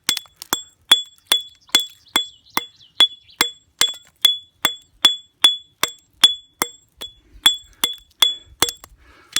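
Hammer striking natural stone while trimming a piece for a wall, a steady run of about twenty sharp, ringing clinks evenly spaced, close and loud with no voices.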